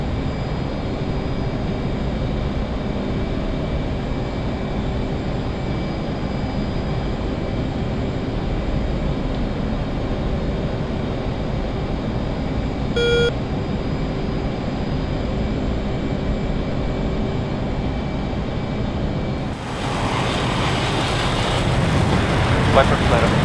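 Military jet in a flight simulator game, climbing after departure: a continuous, loud engine roar that holds steady, with a brief thin tone partway through and a brighter, harsher rush near the end.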